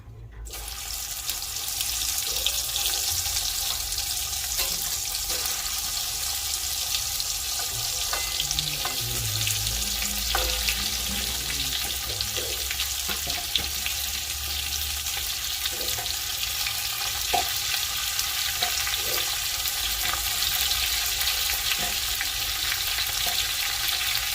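Stuffed okra (bhindi) slides into hot oil with asafoetida in a kadhai and fries in a continuous loud, close sizzle, with occasional soft knocks of the pieces settling.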